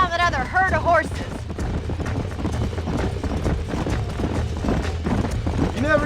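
Galloping hooves of a herd of horses in Red Dead Redemption, a dense, steady clip-clop drumming throughout, with a horse whinny early on and talking voices layered over the top.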